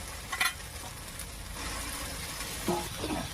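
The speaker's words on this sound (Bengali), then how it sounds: "এবার কেটে ধুয়ে রাখা লোটে মাছগুলো দিয়ে দেবো" Bombay duck (lote) fish pieces dropped into hot spiced masala with chopped tomato, a steady low sizzle and frying hiss with a few brief stirring clinks, close and moderately loud, no talking.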